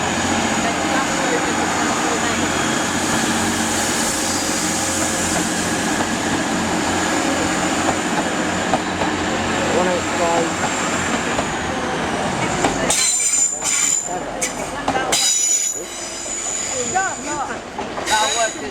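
A British Rail Class 185 diesel multiple unit pulls out of Leeds station, its engine drone and wheel noise loud and steady before breaking into clattering, squealing wheel sounds near the end, with voices talking over it.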